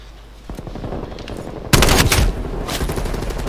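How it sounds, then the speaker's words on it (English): SMG gunfire in a competitive video game match, rapid bursts of automatic shots at mid range, a louder close burst in the middle, dense and continuous with no talk. "Big Tank trying to chow with the SMG from mid range"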